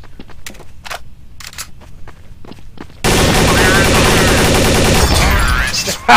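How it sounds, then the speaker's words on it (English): Gunfire in the Counter-Strike Source video game, opening with sparse clicks and faint thuds, then a sudden sustained burst of loud, dense shooting that runs for about three seconds before ending in a sharp final blast. "Shotgun out of nowhere."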